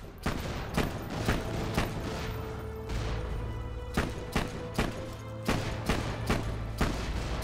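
Rapid fire gun shots from an incendiary weapon in Borderlands 2, a loud, dense barrage of repeated bangs in uneven bursts over game music, with no talking.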